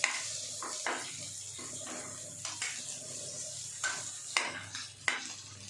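Telangana-style chicken fry with cumin is stirred in a pan. A steady sizzle runs underneath, broken by repeated scraping and clinking of a spoon against the pan at an uneven pace.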